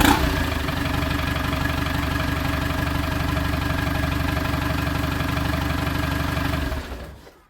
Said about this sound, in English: A TDI, sat for 5 years in an exposed barn, fired straight up.